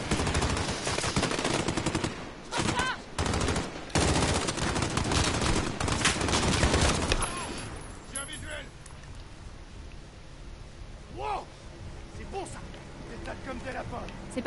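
Machine gun fire in the video game Call of Duty Modern Warfare crackles in loud rapid bursts for several seconds, then gives way to quieter scattered shots and ambient game sound, with talk intermittently over it.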